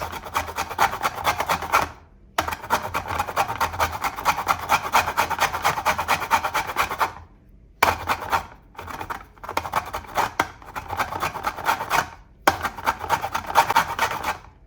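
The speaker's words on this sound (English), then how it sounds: "Make sure you're grating only the skin." Lemon peel is rubbed across a grater for zest, making close, dry rasping strokes in long runs broken by short pauses, with no talk.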